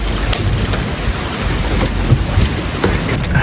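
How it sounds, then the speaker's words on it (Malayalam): Wind and rain lash a boat on the Amazon's Napo river near the Peru–Ecuador border, a steady loud downpour with gusting wind and faint rumbles throughout. "ഇവിടെ പുറത്ത് നല്ല കാറ്റ് കേട്ടോ. കാറ്റും മഴക്കോളും."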